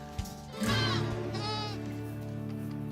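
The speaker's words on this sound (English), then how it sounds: "It's impossible just by looking to tell these goats from their non-spidey brethren." Genetically modified goats bleat in a farm pen, one loud, wavering bleat followed by a second shorter call close by over steady low background hum.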